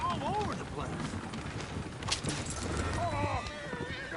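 Horses gallop in Red Dead Redemption 2, hooves clattering in a rapid rhythm with short whinnies, while voices talk and shout over the action.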